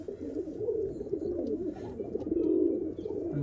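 Pigeons coo in soft, low, continuous murmuring calls close by, a steady throaty burble throughout with no talking.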